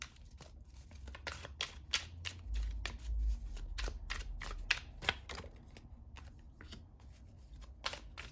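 A deck of tarot cards is shuffled by hand, giving a steady run of close, quick papery riffles and slaps that lasts several seconds with no talking.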